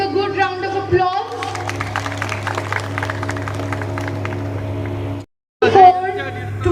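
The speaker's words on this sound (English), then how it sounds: "please give a good round of applause" An audience at an award presentation ceremony claps in a dense, sustained round of applause over a steady background hum, briefly dropping out before resuming.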